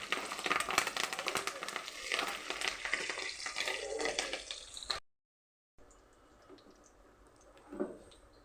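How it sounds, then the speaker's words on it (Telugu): Curry leaves and peanuts frying in hot oil, a loud crackling sizzle for several seconds that cuts off, then a quieter sizzle with a faint stir and clink. "అవి వేగాక ఈ విధంగా కరివేపాకు పల్లీలు కూడా వేసుకొని వేయించుకోవాలి"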